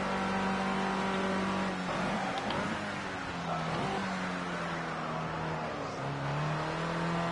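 A Formula C race car engine in Project Cars 2 drones steadily throughout, its pitch rising and falling as it revs and shifts, loud and close with no talking.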